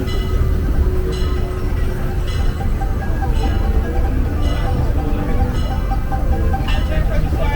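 Disneyland Railroad train running on its rails between Toontown and Tomorrowland, a steady loud rumble and rolling clatter with faint periodic clicks, continuous and close throughout.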